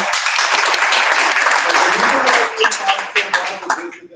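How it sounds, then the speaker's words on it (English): Audience applause at a Toastmasters meeting, a dense, steady burst of clapping that fills the room and tapers into scattered claps toward the end, with some voices mixed in. "Give him a round of applause."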